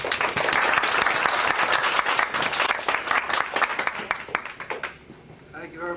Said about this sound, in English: please let's give a warm round of applause to Joel Jacobson.